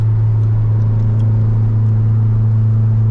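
A 1990s Honda Accord with an H22 engine, set up as a drift car, drones loudly from inside the cabin with a deep, steady engine hum and road rumble under a constant, even pull.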